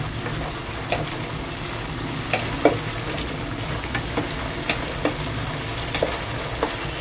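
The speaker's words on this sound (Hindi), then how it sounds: "अब अदरक लहसुन का पेस्ट जो है ये भी हम भूनेंगे ताकि इसका भी कच्चापन चला जाए" Ginger garlic paste sizzles and fries in a hot pan while being stirred, a steady close crackle with scattered louder spatters and stirring clicks, no voices, for an achari dahiwali bhindi (okra in yogurt) dish.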